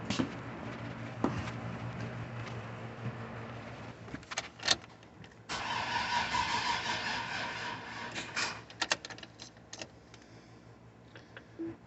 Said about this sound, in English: See if it's got any crank to her now.